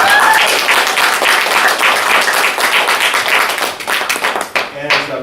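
Loud audience applause at a TEDx event, close and energetic clapping from a crowd that carries on strongly before tapering off near the end, with some voices audible underneath.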